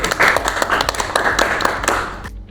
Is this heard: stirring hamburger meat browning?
no